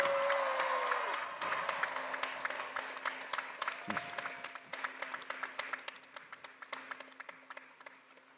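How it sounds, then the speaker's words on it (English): Audience applause at a university commencement ceremony, a dense wash of clapping that swells early and then slowly thins, with scattered individual claps fading out toward the end. "And I think that deserves another round of applause."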